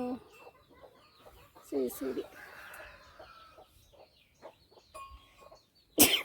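Farm chickens cluck near a field sown with bitter gourd, okra, cucumber and corn seeds, a few short clucks and calls scattered between quiet stretches, with people speaking briefly and a sharp loud knock near the end.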